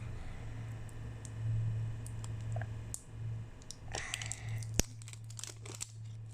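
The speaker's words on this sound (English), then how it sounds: "I need to use my scissors to cut a little opening so I can bring it out." Scissors snip open a plastic toy blind bag package up close, giving scattered faint clicks and crinkles, then a cluster of sharper cutting and rustling sounds with one crisp snap near the end, over a low steady hum.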